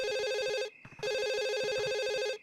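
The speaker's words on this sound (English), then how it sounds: "suddenly the phone rings" A telephone in The Sims 1 rings in two electronic bursts, the first cut off after under a second and a brief gap with faint clicks before the second ring continues loud and steady.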